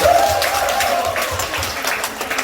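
Audience clapping in a Korean singing class, a loud, dense burst of applause throughout, with a sustained tone heard briefly at the start.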